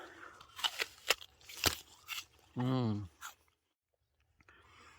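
Crisp crunching bites into a sweet, juicy Millennium Gold apple picked in an orchard, several loud close crunches and chewing sounds, with a short vocal murmur partway through.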